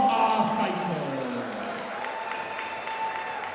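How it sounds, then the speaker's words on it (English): Boxing event crowd applauding both fighters after a bout, a soft wash of clapping and crowd murmur heard at a distance beneath an announcer's amplified voice, which fades as the applause continues. "can we please have a big round of applause for both of our fighters."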